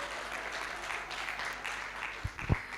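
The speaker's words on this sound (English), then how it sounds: "This is the time you clap for me now." Faint audience applause at a menopause policy event, a soft continuous patter of clapping heard at a distance with a couple of closer thumps near the end.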